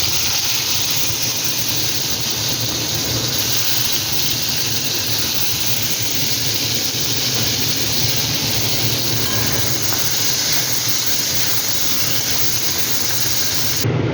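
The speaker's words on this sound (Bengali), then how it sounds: "এবারে আলুটা ভেজে নেবো বন্ধু" Potatoes fry in hot oil with a constant broad hiss and faint crackling that stays level for the whole stretch, close up and with no voices.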